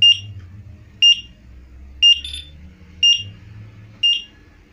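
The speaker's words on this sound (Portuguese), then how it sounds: "no segundo evento recebido, ela dispara esse alarme" A Safelink Vectra EX 204 alarm panel sounds its alarm as five sharp electronic beeps, spaced about a second apart, over a low background hum.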